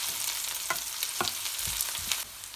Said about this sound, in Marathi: हिरवी मिरच्या घेतल्यात मी 3 कट करून, आणि हे चांगलं फ्राय करून घ्यायचं।